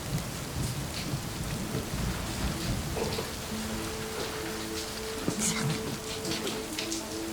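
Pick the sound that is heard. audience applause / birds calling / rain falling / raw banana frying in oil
rain falling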